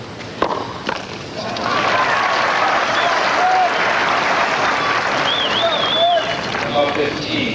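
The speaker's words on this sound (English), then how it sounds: "Crowd trying to help Chris to get in this." The crowd at the 1987 Key Biscayne tennis final breaks into loud sustained applause after a few sharp claps, with a commentator talking over it and scattered whistles and cheers.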